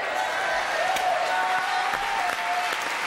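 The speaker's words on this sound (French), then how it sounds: "Faut pas trop applaudir" Studio audience on a French TV variety show applauds steadily, a dense wash of clapping filling the room for a few seconds without a break, with a faint tone running underneath.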